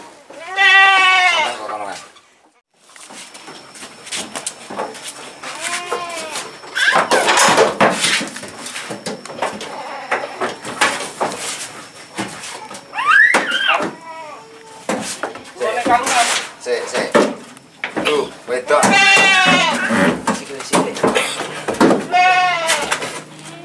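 Several male goats bleat repeatedly while being loaded onto a vehicle, some close and loud, amid clattering, shuffling and background voices.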